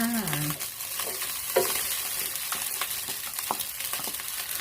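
Shrimp tossed into a hot pan of Thai shrimp-paste fried rice, giving a loud, continuous frying sizzle broken by repeated sharp spatula scrapes and clacks against the pan.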